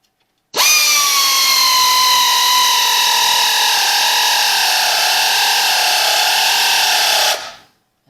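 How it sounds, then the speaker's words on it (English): Pneumatic tool running bolts into a Chevrolet Turbo 350 transmission pan produces a single long, loud whirring whine of about seven seconds, its pitch sagging slightly under load before cutting off sharply. "I am using an air tool, so it's going to get a little noisy for a minute."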